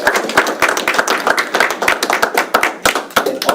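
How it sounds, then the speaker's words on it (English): A small group at a school board meeting claps for teachers, sharp distinct hand claps close by in a quick irregular patter, fairly loud and without talk. "I just wanted to give them a round of applause"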